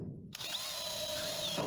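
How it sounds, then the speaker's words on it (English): Power drill boring holes through a sheet-metal panel of a 1962 Chevrolet Impala for plug welds, a brief near whine that starts abruptly and holds a steady pitch before cutting off. "we're going to drill some holes through here so that we can perform plug welds"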